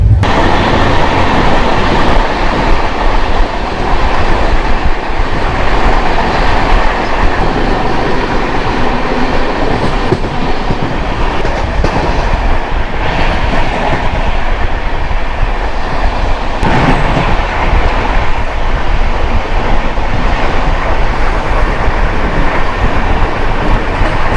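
The 18005 Howrah–Jagdalpur Samaleswari Express passenger train rolls steadily along the rails with a continuous loud rumble and rhythmic wheel clatter, heard from on board with no talking throughout.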